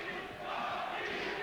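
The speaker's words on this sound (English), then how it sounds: "the chants of Rocky come up" Arena crowd at a Chris Eubank vs Graciano Rocchigiani boxing bout chants "Rocky" for Rocchigiani, a massed roar of voices heard from a distance, fairly quiet and unbroken over a brief moment.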